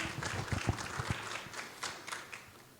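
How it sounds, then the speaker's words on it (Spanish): Audience applause at a formal speaker introduction, scattered hand claps from a modest crowd, fairly faint and distant, sharper claps early that thin out and fade toward the end. "Aplausos."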